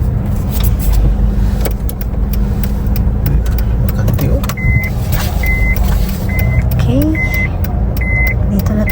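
A car moves slowly through a parking garage with a steady low engine rumble, while a repeating electronic beep sounds about once a second in the second half and voices murmur in the background.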